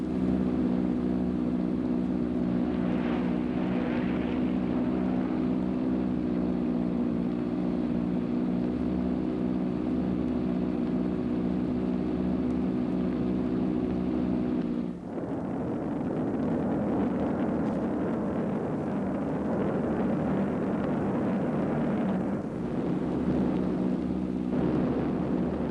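Heavy droning engines of long-range bomber aircraft from wartime footage, a loud continuous propeller roar with a sharp shift in tone midway, no voices.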